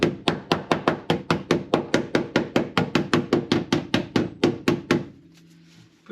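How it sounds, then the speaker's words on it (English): A hammer taps rapidly and evenly on car sound-deadening material stuck to the floor, about twenty close, sharp knocks in a steady rhythm before stopping, followed by a faint low hum. "Just angle the hammer a little bit."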